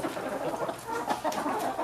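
Chickens cluck continuously inside a coop, a dense, busy layer of overlapping bird calls at moderate loudness with no talking.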